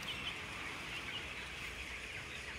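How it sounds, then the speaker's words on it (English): Inside a factory farm barn, a dense crowd of chickens makes a constant, faint wash of clucking and rustling that blends into a steady background murmur. "I wonder how these chickens will react once they realize I mean no harm."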